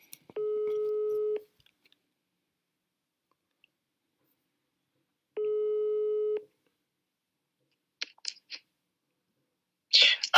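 Two long, steady telephone ringback tones, each about a second long, sound several seconds apart while an outgoing call is placed, followed by faint clicks and brief noises.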